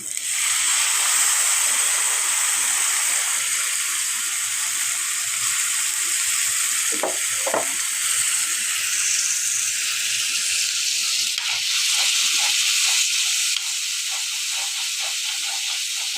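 Ground spices and salt sautéing in a hot pan give a continuous, loud frying hiss that holds steady throughout, with faint stirring scrapes underneath.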